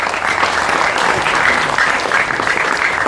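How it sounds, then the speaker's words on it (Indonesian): A large audience at a National Santri Day religious gathering breaks into sustained, dense applause, loud and close, with no voices rising above the clapping. "Maka tepuk tangan untuk Banser ini."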